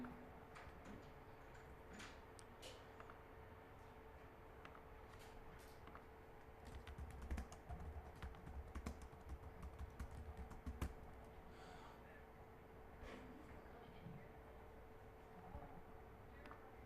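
Quiet, steady typing on a computer keyboard: a run of light, rapid key clicks over a low background hum, no voices.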